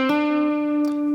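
A single sustained electric guitar note after a sharp, overly hard hammer-on attack, ringing bright and slightly harsh, with small string noises scraping near the end.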